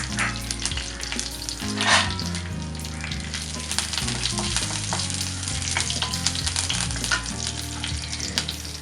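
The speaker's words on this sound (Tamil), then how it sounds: "கருவேப்பிலையும் வரமிளகாவும் பொரிஞ்சிருச்சு." Curry leaves and two dried red chillies fry in hot oil for a prawn pepper fry, producing a steady close sizzle with scattered crackles and spits over a low hum, no voices.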